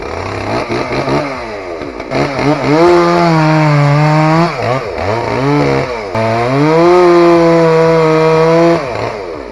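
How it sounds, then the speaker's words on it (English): A chainsaw cuts through fir wood, loud and close. The engine revs up and bogs down in long strained passes as the chain bites into the log, with brief drops in pitch between cuts. "Seeing the sawdust fly as the saw cuts through that fur is incredibly relaxing to watch."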